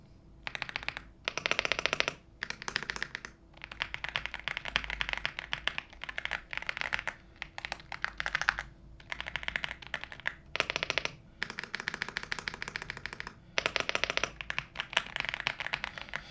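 Rapid clacky keystrokes on a plastic Yunzii B98PRO mechanical keyboard, recorded up close, in bursts of typing separated by brief pauses.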